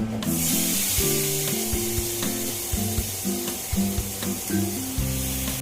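Bottle gourd pieces going into spice masala cooked with a little sugar in a pan, a continuous hiss and sizzle with scraping stirs, and a steady tonal hum underneath.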